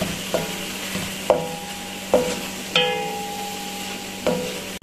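Garlic ginger paste sizzling in a hot pan with soft scraping as it's stirred, a few sharp clinks of a utensil against the pan.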